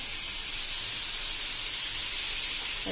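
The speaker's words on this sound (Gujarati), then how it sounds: "હવે આ સ્ટેજે આપણે 2 નાના ટમેટા લઈને એકદમ ઝીણા સમારી લીધા છે એ નાખી દેશું" Finely chopped tomatoes hit hot ginger, chilli and garlic sautéing on a tava. A steady, bright hiss of sizzling continues unbroken and fairly loud throughout.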